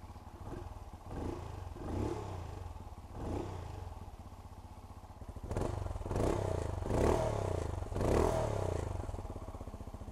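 A Benelli Imperiale 400 single-cylinder motorcycle is cranked and fired up, with repeated starter bursts and rising engine surges settling toward a rough, pulsing idle, close and moderately loud, with no talking.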